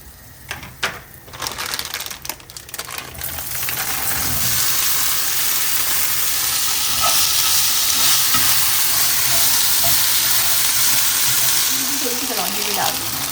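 Okra frying in a pan gives a loud, steady sizzle after a few clattering stirs at the start, then continues as continuous crackling with faint scraping of the spoon.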